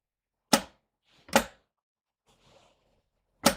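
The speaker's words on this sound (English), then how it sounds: "I think it was just my scissor rattling a little bit." Small metal scissors rattling in short sharp bursts, three distinct clattering hits spaced about a second apart with a faint softer rustle between them, close and otherwise quiet, during a live stream about cutting non-slip rugs.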